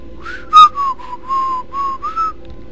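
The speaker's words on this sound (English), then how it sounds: "that's a horrible whistling" A person whistles a simple elevator-music tune, a string of about six clear sustained notes with short gaps between them, close and alone against a faint background hum.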